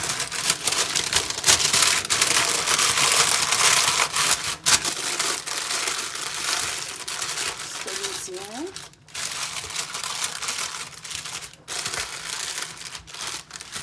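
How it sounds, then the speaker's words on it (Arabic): Paper and aluminium foil crinkle and rustle continuously as they are pressed over a baking pan of salted vegetables, a close, busy scratching texture with someone speaking briefly over it. "غادي ندير ليه بابي الومنيوم من الفوق"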